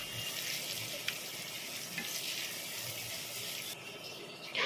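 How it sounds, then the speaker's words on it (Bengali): Chopped vegetables with coriander and green chillies fry in a pan for vegetable fried rice, giving a steady, even sizzle that holds throughout with a few faint clicks and no talking. "সব অ্যাড করে দেখো ভেজে নিচ্ছি"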